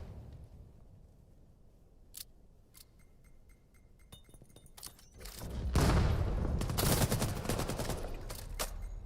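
Gunfire in the VR shooter VAIL during a competitive esports match: scattered sharp clicks and metallic ticks first, then a loud, sustained burst of rapid shots that carries on to the end.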